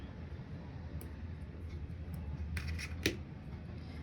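Scissors cut through crochet yarn with a few quick, faint snips, the clearest near the end, over a low, steady background hum.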